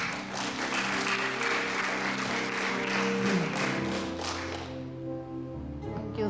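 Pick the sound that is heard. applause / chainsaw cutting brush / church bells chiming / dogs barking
applause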